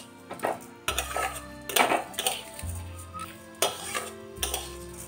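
Rice is stirred with ghee in a pan on a gas stove, with repeated scraping and clinking of a utensil against the metal pan in irregular bursts, close and fairly quiet.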